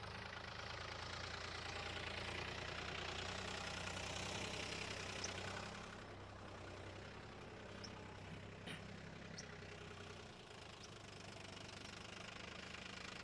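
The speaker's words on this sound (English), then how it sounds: "the Mahindra 3136 OJA, 36 horsepower, and coming right over for you" Steady running hum of a Mahindra 3136 OJA 36-horsepower tractor engine at a launch event, a continuous low drone with a slight change midway, heard alone at moderate distance.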